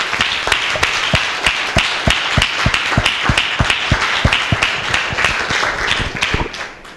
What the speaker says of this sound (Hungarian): So give a round of applause